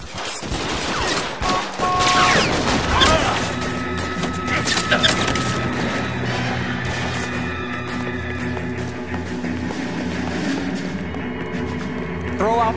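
A loud burst of gunfire in a 1940s Los Angeles police shootout from the game L.A. Noire: rapid overlapping shots and cracks in the opening seconds, followed by scattered impacts and clatter over a ringing background.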